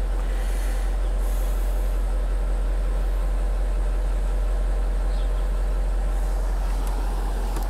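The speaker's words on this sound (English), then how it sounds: "Okay, once again, let's blow the suspension up." A Range Rover L322 4.4 TDV8's air suspension inflating and raising the body, a loud, steady mechanical drone with a low rumble that holds unbroken throughout, with no voices.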